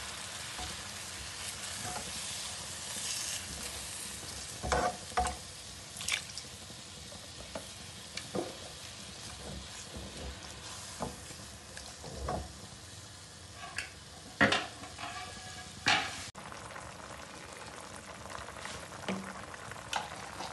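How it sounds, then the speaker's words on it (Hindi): Chicken simmering in milk in a karahi for white karahi, a soft, steady bubbling sizzle close by, broken by several louder clinks and scrapes of stirring. "दूध में जो है वो चिकन हमारा पकना शुरू हो गया है।"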